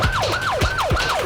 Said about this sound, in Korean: 화재 현장 부근의 골목길에 다다른 소방차